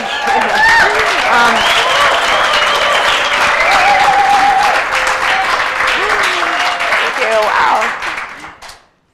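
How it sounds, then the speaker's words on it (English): Symposium audience applauding, loud sustained clapping from a crowd that fades out at the end, with a speaker's voice heard over it. "That's the first time I've ever got applause for that line."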